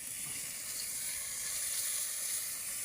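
Food sizzles and fries steadily in a pan while being stirred, seasoned with salt and a little MSG, a constant close hiss with no talking.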